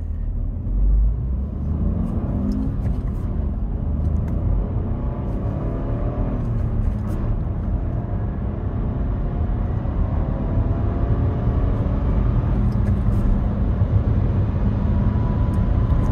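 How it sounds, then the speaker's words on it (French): Renault Austral 130 hp accelerating hard to 100 km/h, heard from inside: a loud, continuous engine drone and road rumble that rises in pitch as it builds speed, with no talking. "on va se faire une petite accélération jusqu'à 100 km/h"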